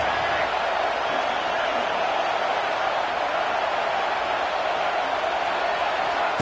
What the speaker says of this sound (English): This crowd unhinged, trying to make sure the Gators don't back down on 3rd down.